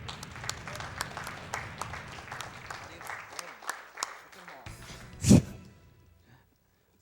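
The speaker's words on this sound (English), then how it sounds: "The crowd goes wild." A crowd at a speedrunning marathon event claps and cheers in a dense burst of applause that fades away, with a voice talking over it and a brief loud thump near the end.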